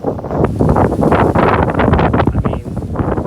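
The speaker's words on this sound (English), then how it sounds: "Super heavy gusts of wind." Strong gusts of wind roar across the microphone during very high winds in Pittsburgh, a loud, dense, continuous buffeting rush with surging peaks and no speech.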